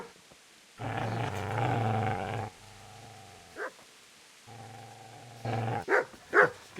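A dog in Kingdom Come: Deliverance growls in two long, loud, low rumbling stretches, each followed by a quieter drawn-out growl, with short sharp barks breaking in between and at the end.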